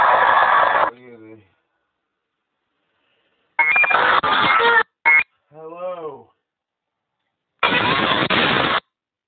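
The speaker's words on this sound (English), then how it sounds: "Put the spirit box on." A spirit box radio sweeps rapidly through stations in loud bursts of static and choppy broadcast fragments, broken by sudden silences and short tonal sweeps, with voice-like snippets among the noise.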